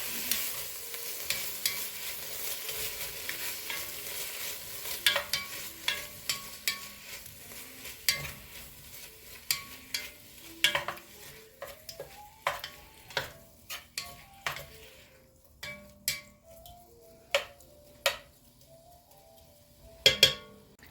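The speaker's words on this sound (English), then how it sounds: "we'll just keep stirring it and browning it up just a little bit" Ingredients for potato soup are stirred and browned in a pot, a soft sizzle running beneath a long series of rhythmic spoon scrapes and taps against the metal, close and clear, with the strokes growing more distinct toward the end.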